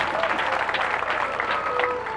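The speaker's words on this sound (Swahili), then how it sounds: "Tumpigie makofi tena." A crowd applauds steadily and loudly throughout, a dense wash of clapping honouring a priest's 25th anniversary of priesthood.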